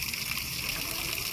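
A steady rush of sprayed water flows and splashes without a break, fairly close, with no voices over it.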